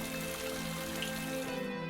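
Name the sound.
heavy rain downpour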